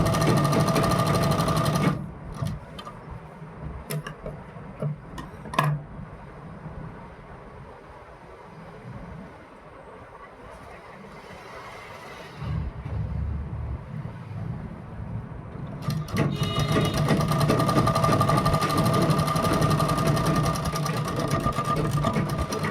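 A sewing machine stitching a kurti neckline onto buckram, running in steady rhythmic bursts with a close mechanical whir, pausing in the middle for a stretch of quieter handling before running continuously again.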